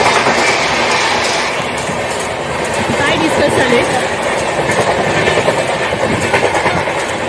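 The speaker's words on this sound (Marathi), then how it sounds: "Train train train train." A train runs past on the rails with a loud, continuous rumble and rhythmic clickety-clack close by, steady throughout, while a person speaks briefly over it.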